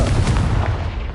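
A loud, booming blast from the Confringo fire spell in the Hogwarts Legacy video game rumbles close and heavy, fading over about a second with no voice over it.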